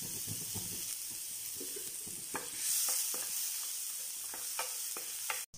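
Chopped onions go into hot oil with cumin seeds and crackle and sizzle softly, with a series of sharp stirring scrapes and taps of a spoon against the pan, with no talking.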